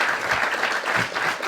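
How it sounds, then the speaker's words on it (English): An audience at an indoor talk applauds steadily and loudly, with dense clapping throughout. "Are we allowed to clap for Mike Collette"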